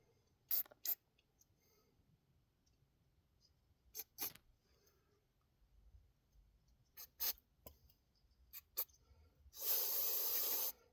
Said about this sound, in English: I'm spraying the tips off a little bit.